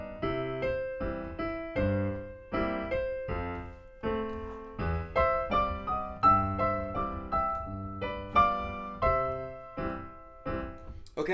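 A piano plays the second section of Scott Joplin's ragtime piece The Entertainer at a slow, careful tempo, with steady chords and melody notes ringing close and clear, no voices over it.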